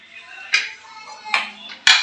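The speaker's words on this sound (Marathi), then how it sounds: "मी कुकरचं झाकण काढते." A pressure cooker lid is opened after four or five whistles while cooking spicy vajri (tripe) fry: three sharp metallic clanks and scrapes, close by, with a quieter rattling hiss between them.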